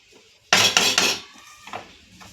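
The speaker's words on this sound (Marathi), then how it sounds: "आता आपण या बेसन पिठामध्ये तूप टाकलेलं आहे तर पुन्हा एकदा आपण ते खमंग भाजून घेऊयात" A spoon clatters and scrapes against a pan while gram flour roasts in ghee, with a sharp burst of metallic knocks followed by quieter scraping.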